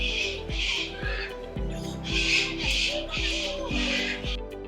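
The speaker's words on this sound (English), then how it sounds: "Different species of birds, all colorful." Colorful birds, flamingos among them, squawk loudly in repeated bursts inside a large aviary at a lakeside bird park in Islamabad, with steady calls overlapping close by and no talk.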